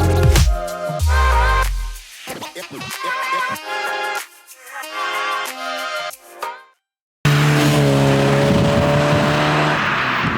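A Mazda MX-5 NA engine revs and changes pitch as the car drives, loud and close, with a brief silent gap before a steady engine hum.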